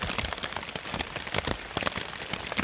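Rain falling on a backpacking tent before dawn in a state forest, with a dense, continuous patter of drops close overhead and no talk.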